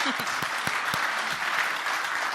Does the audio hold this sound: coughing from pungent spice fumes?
no